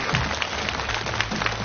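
A television studio audience claps for a singer in a short burst of steady, crisp applause. The clapping is moderately loud and fills the whole moment.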